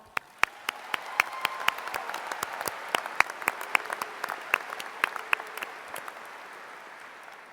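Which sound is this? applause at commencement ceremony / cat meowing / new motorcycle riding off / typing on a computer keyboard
applause at commencement ceremony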